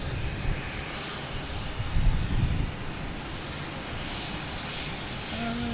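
A Lufthansa airliner at Boston Logan Airport produces a continuous, moderately distant engine roar with a brief louder swell, heard without talk.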